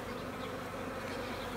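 Dense, steady buzzing of many honey bees at a hive set up with one frame of stores and three frames of capped brood covered in bees, a continuous close drone with no talk.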